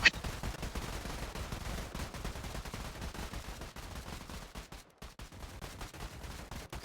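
Continuous rapid gunfire fills a roleplay video game scene, dense bursts of shots rattling without pause at moderate loudness.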